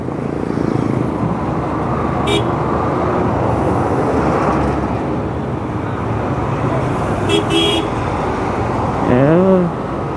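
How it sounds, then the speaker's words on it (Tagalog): Heavy evening road traffic heard from a moving FZ150 motorcycle makes a steady, loud roadway roar; a few short horn honks cut through, with a rising-and-falling horn near the end, and a voice talks over it. "Haba ng traffic dyan."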